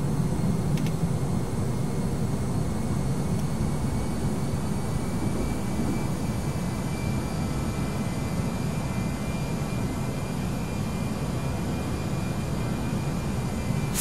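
Airliner engines at climb thrust in the Prepar3D flight simulator, a steady, loud broadband roar with a low rumble that holds unchanged from start to finish, with no voices.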